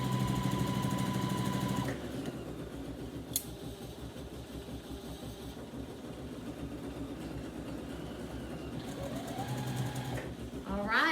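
A sewing machine stitches a quilt, running fast and close for a couple of seconds, then a rapid mechanical chatter of stitching continues more quietly before the motor speeds up again near the end.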